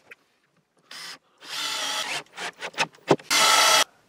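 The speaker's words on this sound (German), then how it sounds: "Das hier schraube ich jetzt von der Rückseite fest." A power drill drives a screw into wood from the back side in several short bursts of whirring, some stop-start, ending in one longer run, close and loud.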